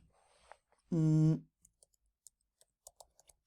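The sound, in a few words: typing code on a computer keyboard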